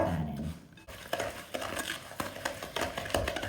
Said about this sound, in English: We just want to keep beating those together until they're nice and creamy.